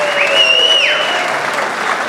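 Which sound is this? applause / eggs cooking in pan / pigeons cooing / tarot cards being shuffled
applause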